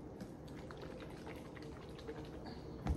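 Powerade sports drink is poured into a cup, a faint, continuous liquid trickle and bubbling heard close up for a few seconds, ending with a soft bump.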